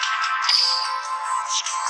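A mobile phone ringtone plays continuously, a bright looping electronic melody at steady loudness, close and clear with no talking over it, while a mobile card-dueling game is being played.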